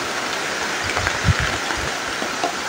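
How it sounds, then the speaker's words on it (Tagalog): Steady, dense hiss of heavy rain pouring down, with faint low thumps underneath and no voices. "magpapasilong na kayo dito kasi malakas yung ulan"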